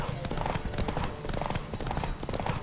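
Horse hooves clip-clop steadily in The Witcher 3, a dense galloping rhythm of close, loud hoofbeats running throughout, layered with other game sounds.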